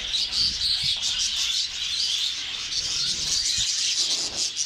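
Small cage birds, diamond doves among them, chirp densely in a bird shop in Saudi Arabia, a steady bright chatter of many overlapping high tweets filling the space, fairly loud and close, with no talking.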